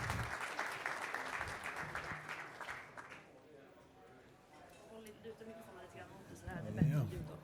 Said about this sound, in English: An applause.